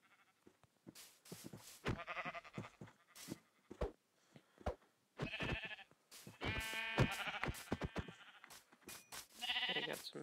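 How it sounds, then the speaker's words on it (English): Sheep in Minecraft Pocket Edition give a series of short, wavering bleats, some single and some in quick clusters, separated by brief quiet gaps. "There's a sheep over there."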